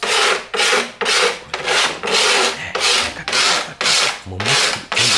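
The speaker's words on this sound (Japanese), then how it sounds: "カッターナイフの刃で削ってます。" A utility knife blade scrapes dried paint off a 20-go M-size canvas painting in about nine steady, loud, close rasping strokes, each stroke about half a second long with brief gaps between them.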